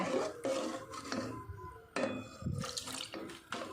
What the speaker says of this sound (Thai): เราจะเติมน้ำเปล่าน้ำสะอาดนิดนึงค่ะ